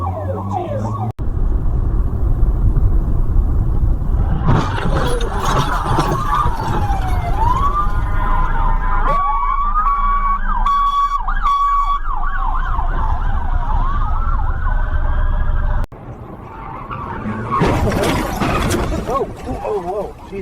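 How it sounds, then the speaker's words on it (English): Police and ambulance sirens wail and sweep repeatedly at a big road wreck in the USA, loud and close over steady traffic rumble, with voices talking over them. "Hear those sirens."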